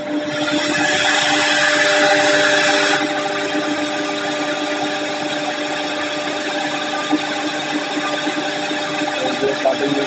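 A cutting machine in a furniture workshop runs with a steady, loud mechanical drone that holds constant throughout and eases slightly after the first few seconds.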